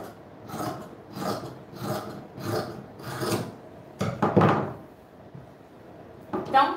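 Scissors cut fabric for a sewn poncho with sleeves. About five rhythmic rasping snips sound close up, followed by a few quicker, scrappier cuts.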